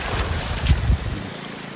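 A forest stream along a mountain pilgrimage trek makes a steady broadband rush of flowing water, with a couple of brief louder bumps near the microphone.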